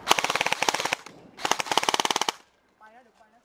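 Airsoft rifles fire in two rapid full-auto bursts of sharp, clicking shots during an outdoor airsoft game in Thailand, close and loud, followed by a pause and brief faint talk.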